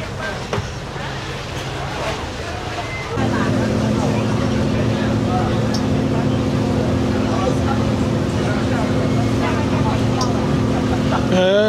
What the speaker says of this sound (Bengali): এই লঞ্চ তো বাংলাদেশি লঞ্চের মতো